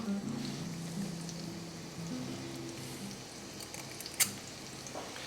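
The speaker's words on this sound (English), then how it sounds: "add cherry tomato sized clumps of dough to the pan" Zucchini fritter dough frying in avocado oil in a pan, a soft steady sizzle with a faint low hum underneath and one brief clack near the end.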